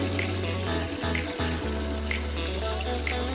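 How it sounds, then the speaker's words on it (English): Dirty mop water from floor cleaning after hardwood wax removal gushes steadily from a bucket, a continuous close splashing pour with no pauses. "dirty water dump."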